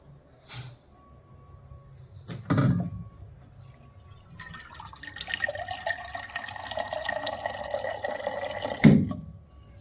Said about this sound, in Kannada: ಇಲ್ಲ, ನೀರು ಉಟ್ಕೊಂಡ್ಬರ್ಬೇಕಲ್ಲ.